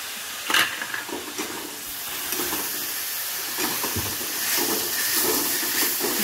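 Ginger and garlic paste hits hot oil in a frying pan, setting off a loud, close hissing sizzle that builds and holds steady, with a few clinks from stirring early on and no voices.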